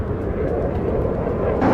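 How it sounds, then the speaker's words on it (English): Aircraft in the Ace Combat 7: Skies Unknown video game, heard as a loud, steady, broad engine roar that holds for a couple of seconds with no voices. "Multiple unidentified aircraft approaching."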